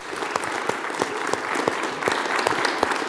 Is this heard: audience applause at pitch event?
yes